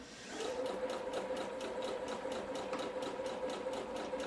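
A sewing machine stitches the side pieces of a peasant top with a steady, rapid, rhythmic whir that runs evenly throughout at moderate, fairly quiet volume.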